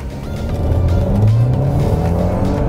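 A big, heavy Mercedes-Benz GLC SUV accelerates hard, its engine roaring loud and close with a rising pitch that holds steady through the whole stretch.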